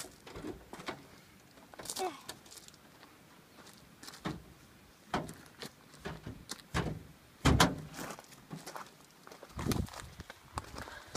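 A Toyota FJ40's door clunks and rattles open amid a series of scattered knocks and thumps, with people talking briefly nearby.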